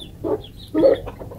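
Two short bursts of caged chickens clucking, close by, separated by a brief pause, with a few softer clucks trailing off afterward.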